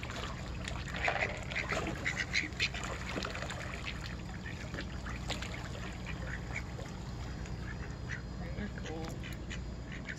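Ducks quack close by at a pond during carp feeding, their calls mixed in with people talking and outdoor background noise.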